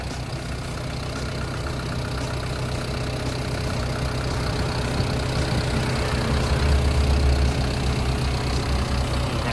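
A Caterpillar 312D 12-ton excavator's four-cylinder turbo diesel, a Cat C4.2, idles steadily close by, a continuous rumbling drone with no voices over it.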